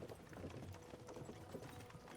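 Horse hooves clip-clopping at an easy walk as they pull a carriage in the medieval video game Kingdom Come: Deliverance II, soft and steady with faint creaking beneath.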